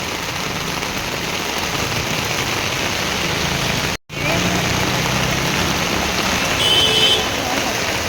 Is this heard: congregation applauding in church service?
no